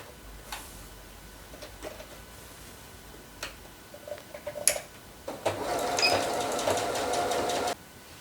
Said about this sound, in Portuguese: E agora eu vou fazer um pé de máquina aqui, ó, com retrocesso no começo e no final.